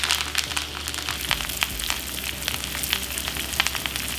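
Butter foaming with sprigs of thyme and rosemary sizzles steadily in a hot cast iron skillet beside a steak, a dense continuous crackle with scattered sharper pops and no voices.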